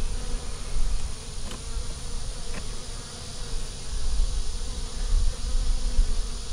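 Honeybees buzz around a beehive in a steady, soft drone, with a few individual bees passing closer now and then.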